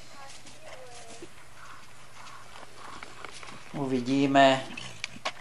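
Horses walking during a training warm-up session for jumping, hooves clip-clopping softly in the background while a person talks over them, with a louder burst of activity near the end.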